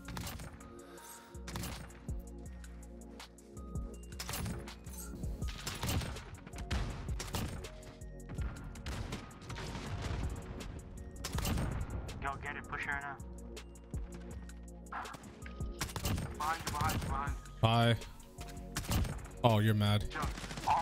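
Rapid VKS sniper rifle shots and impact thuds from Modern Warfare gameplay, sharp bursts recurring throughout over a dense bed of game music and effects, with a player talking over the action.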